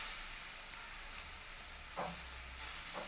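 Drumstick leaves fry in a pan with a soft, steady sizzle, joined by a couple of brief scraping stirs from a utensil; the sound is faint and close, with no voices.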